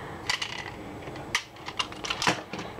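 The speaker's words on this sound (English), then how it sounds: "there's a little thing that clicks up right here, push that up, click it right here" Small plastic Power Rangers Megaforce zord toy parts snapping into place, giving scattered sharp clicks and ticks at close range over a faint background hiss.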